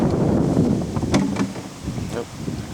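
Wind gusts buffet an outdoor microphone during an oil change on a 2011 Ford Escape XLT, a steady low rumble with brief louder bursts, heard alone without speech.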